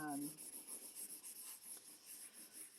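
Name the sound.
blending stump rubbing charcoal on paper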